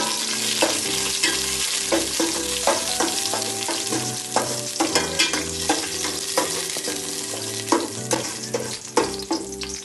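Raisins fry in hot oil in a pan for a Kerala-style neychor, a constant close sizzle broken by frequent rhythmic scraping and stirring knocks.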